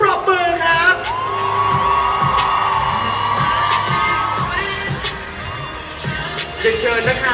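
Audience at a press conference in Bangkok for BamBam's first world tour encore, Area 52, cheering with high whoops and shrieks over steady clapping, loud and continuous throughout.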